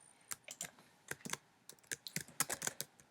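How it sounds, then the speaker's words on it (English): Keystrokes on a computer keyboard while entering an attribute name in a Prograph programming environment, about a dozen sharp clicks in irregular bursts, close and clear with no talking. "if I type last name in there and hit the return key"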